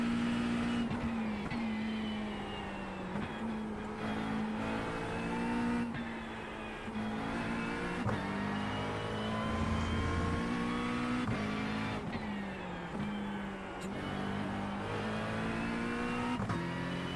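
GT3 race car engine in iRacing at Spa, loud and steady near whine with abrupt pitch drops at upshifts, including a quick double upshift, no talk.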